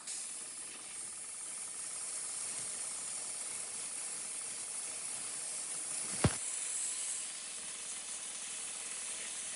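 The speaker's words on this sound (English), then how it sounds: "this concentrated steam gun just got it clean" A steam cleaner's concentrated steam gun blasts a mildew spot in a shower with a continuous close hiss, broken by one sharp click partway through.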